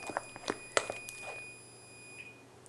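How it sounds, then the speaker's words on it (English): An oven timer in a home kitchen beeps steadily with a thin, high, continuous electronic tone that runs for a couple of seconds over light kitchen clatter and handling noises, then cuts off. "That's my oven timer."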